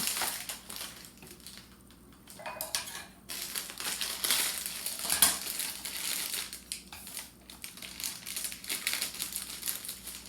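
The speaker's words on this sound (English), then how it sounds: "Now to this, I'm going to add the cake mix." Dry boxed cake mix pours and rustles into a bowl of wet ingredients for a pig pickin' cake, a soft continuous crinkling hiss with papery bag crumples.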